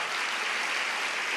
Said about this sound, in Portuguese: Se vocês puderem dar uma salva de palmas para eles também.